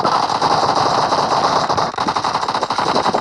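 Loud, close video game gunfire in rapid automatic bursts, a continuous stutter of shots with a brief break partway through before firing resumes.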